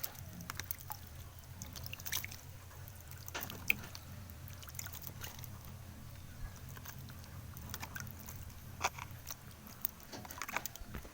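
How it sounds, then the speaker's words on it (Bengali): Water is sprinkled by hand over freshly sown vegetable seeds in soil, giving faint irregular drips, patters and trickles against a quiet outdoor background. "এবারে এইগুলো হচ্ছে ওপর থেকে একটু করে জল ছড়িয়ে দেবো, খুব বেশি দেবো না"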